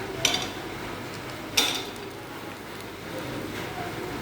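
A spoon stirs moringa leaves into an egg stir-fry in a pan. Two sharp metallic clinks ring out against a soft, steady hiss of cooking, with a faint scrape near the end.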